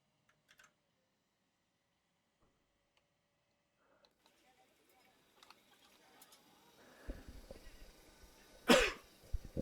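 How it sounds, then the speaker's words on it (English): Near-silence gives way to rustling, then a sharp, loud cough or sneeze near the end, followed by a few smaller bursts, during a flight simulator session. "Coughing, sneezing, it's not my day today."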